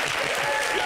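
An audience at a fashion show applauds in a brief, dense burst of continuous clapping that is fairly loud and has no gaps.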